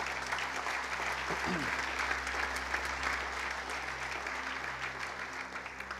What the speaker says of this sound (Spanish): Un fuerte aplauso para Dios